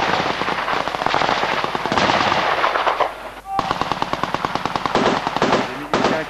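Gunfire during a firefight with French special forces in Congo, dense bursts of automatic fire and sharp shots cracking in rapid succession, loud and close, with a brief lull midway before the firing resumes.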